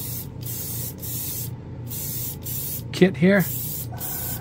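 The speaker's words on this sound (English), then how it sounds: "We'll shoot that through an airbrush" An airbrush sprays decanted matte black BEHR spray paint onto plastic, giving a steady close hiss broken by brief pauses, with a short spoken remark near the end.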